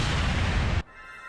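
An explosion in the Sonic Frontiers video game, a loud, dense booming burst that holds steady and then cuts off abruptly, leaving only quiet tonal hum behind.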